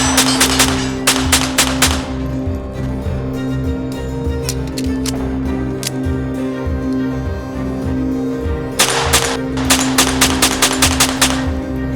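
A Sig Sauer Mosquito .22 LR training pistol fires in sharp, close, loud cracks, some spaced singly and others in quick strings of several rounds, at an outdoor range.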